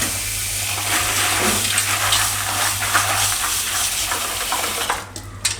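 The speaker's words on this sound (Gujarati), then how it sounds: "આ જે સોયાની વડી છે એને આપણે એક પાણીએ પહેલાં ધોઈ નાખશું" Soya chunks get rinsed in a kitchen with steady splashing and stirring of water, a continuous close wash with a low hum underneath, ending in a few sharper clatters.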